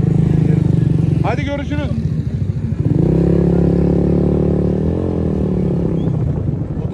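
Motorcycle engine revving at a modified-car meet in Homeros Valley, İzmir, running steadily loud throughout with a rising rev swell midway, while several people talk over it.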